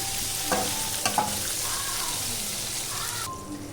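Green chillies and cucumber fry in a pan with a soft, steady sizzle, broken by a few quick stirring scrapes near the start.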